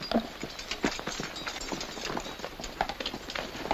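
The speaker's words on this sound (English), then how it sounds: "We'll get the horses started for the fort." Horses set off for a fort in a 1937 Western, hooves clip-clopping in an irregular trotting rhythm at moderate distance, fairly quiet, with no voices over them.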